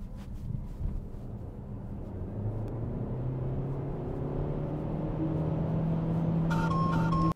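A BYD Seal U DM-i AWD launches from standstill to 100 km/h in sport mode, its drivetrain whine rising steadily in pitch over a low road and wind rumble, heard from inside the cabin, ending with a chime.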